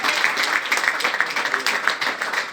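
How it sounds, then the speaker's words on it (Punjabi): A church congregation at a Christian prayer meeting claps together in a quick, even rhythm, a dense burst of many hands lasting a couple of seconds. "ਸਭ ਤਾਲੀ ਵਜੋ ਪ੍ਰਭੂ ਦੇ ਵਾਸਤੇ।"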